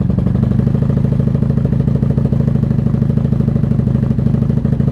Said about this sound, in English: Okay, 1994 Honda Magna.